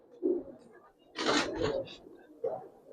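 Giribaz pigeons coo in a few soft, low, throaty bursts close by, with quiet pauses between calls and some faint talk nearby.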